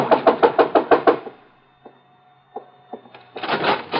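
A door is knocked on in a radio crime drama: a rapid run of about seven loud, close raps, then a pause with a few faint taps before a voice comes in.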